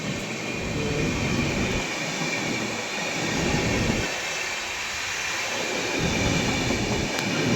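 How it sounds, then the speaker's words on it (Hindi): A CR Rajdhani express overtakes on an Indian railway with a steady, loud rushing rumble of wheels and carriages that swells and dips over several seconds, without talk. "एक और ओवरटेक CR राजधानी द्वारा।"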